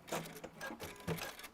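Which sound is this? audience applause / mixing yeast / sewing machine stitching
sewing machine stitching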